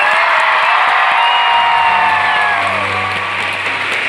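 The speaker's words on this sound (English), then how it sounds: "Everybody give them a round of applause." A live tour audience breaks into a round of applause with cheering and whoops, loud, dense clapping throughout, while a low sustained tone rises underneath partway through.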